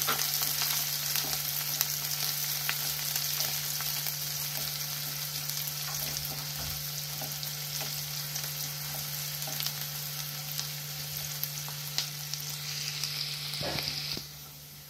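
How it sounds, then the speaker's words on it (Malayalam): Sliced onions frying in oil for lemon rice produce a steady, close sizzle with faint crackles and occasional stirring over a constant low hum, ending abruptly, with no talking. "സവോളയും നമുക്ക് വറുത്ത് കോരിയെടുക്കാം"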